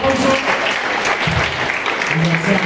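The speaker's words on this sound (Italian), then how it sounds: "Faccio un applauso." Loud applause from a crowd at a football club's inauguration, close and sustained across the whole span, with voices talking through and under the clapping.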